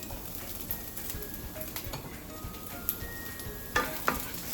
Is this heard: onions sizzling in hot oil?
yes